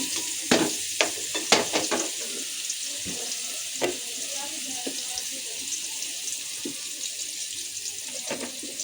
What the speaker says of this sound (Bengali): তো তাই হচ্ছে যে আমি মাংসটা একটু ভেজে নেব